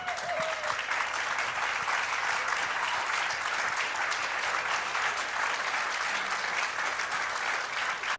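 An audience at a political event claps steadily and evenly, a continuous wash of applause from a crowd that cuts off abruptly at the end.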